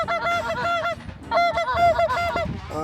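Several geese honk repeatedly and loudly at close range during a goose hunt, calls overlapping in bursts with short pauses between.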